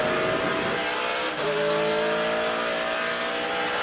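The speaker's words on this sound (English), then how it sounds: "Listen to Bowles go up through the gearbox." Stock race car in a Canadian Tire Series race at the 2011 Napa Autopro 100 climbing up through the gears, a loud steady engine roar with a brief dip at a shift before revving on.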